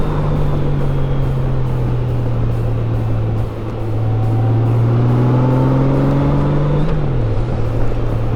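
A motorcycle cruising along a road past a golf course near Tampa, its steady engine drone loud and close throughout with a brief dip and a slight pitch shift near the end, along with wind rush.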